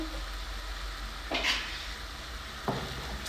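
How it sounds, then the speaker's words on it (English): Fish masala with well-cooked tomatoes sizzles steadily in a pan over medium heat, and a spatula stirs through it in two short scraping passes, close and with no talking. "give it a stir, just like that"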